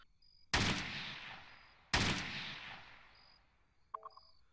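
Two loud gunshots in a first-person shooter video game, each a sharp crack with a long echoing tail across open terrain, followed by a couple of faint mechanical clicks.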